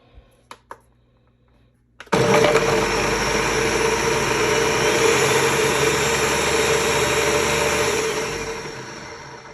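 A food processor or blender grinding roasted vegetables, starting abruptly after a few clicks and running loudly and steadily for about six seconds before winding down.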